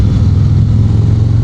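Factory exhaust on a 2025 Harley-Davidson Road Glide gives a deep, loud low-pitched rumble as the bike launches, one short, close, steady burst of engine sound.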